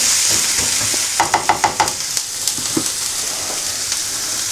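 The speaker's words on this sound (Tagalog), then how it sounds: "Yan, medyo na tostado na yung bawang natin." Garlic toasting in a small frying pan, a steady bright sizzle with a burst of quick scraping stirs near the middle, close and loud, no voices.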